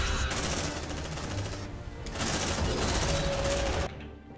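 Sustained rapid gunfire rattles loudly through the whole stretch in the sci-fi shooter Aliens: Dark Descent, with a brief dip midway and a thinner tail at the end.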